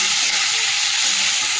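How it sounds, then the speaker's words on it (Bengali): Chopped onions frying in a pan with a steady, close, bright sizzle and hiss that holds level throughout, with no voices. "পেঁয়াজটা ভাজা হয়।"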